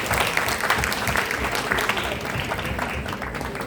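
An audience in a session room breaks into steady applause, many hands clapping together at close range and holding an even, sustained level throughout.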